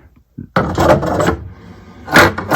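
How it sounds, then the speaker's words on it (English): An old wooden desk drawer slides open with a woody scraping rub, loud and close, following a small knock, with no talking over it. "when you open this drawer"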